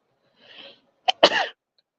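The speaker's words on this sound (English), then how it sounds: "I got to sneeze." A breathy intake builds up, then a sharp, explosive sneeze bursts out up close, followed by a brief trailing exhale.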